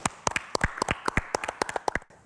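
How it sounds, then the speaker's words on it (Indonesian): A small studio audience claps hands at a health talk show, a short burst of sharp, uneven claps lasting about two seconds, close and fairly light, fading quickly at the end. "tepuk tangan dulu dong"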